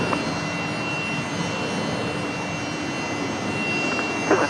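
A Jetstar airliner on landing approach at Brisbane Airport gives off a steady, moderately loud jet engine roar with a faint whine, constant for the whole stretch and without voices.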